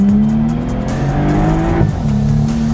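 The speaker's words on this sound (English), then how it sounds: "like you hear that kind of snorting sound, the car hiccups forward" A nearby BMW 335i engine runs with a steady hum, then gives a brief stuttering snort as the pitch dips and recovers, the car hiccuping forward.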